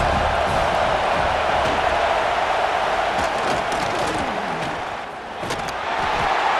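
A football stadium crowd at Ohio State at NSU roars in a dense, continuous wall of cheering during a big third-down defensive stand, holding loud and steady with only a brief dip near the end.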